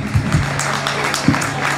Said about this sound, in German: Großen Applaus bitte dafür.